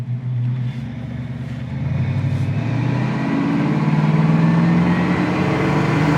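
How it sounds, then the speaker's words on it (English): A 1968 Ford Mustang Convertible on a test drive, its engine droning loud and close as it pulls, the pitch sweeping up and down through acceleration with a steady road rumble underneath. "This afternoon, we're going to be test driving and then checking out this 1968 Mustang Convertible."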